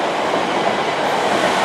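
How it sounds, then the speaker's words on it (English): A Class 444 electric multiple unit rolls through Clapham Junction toward Portsmouth Harbour, a loud, close, continuous rumble of wheels on track with a steady broadband roar and no voices over it. "there's 444-012 off to Portsmouth Harbour"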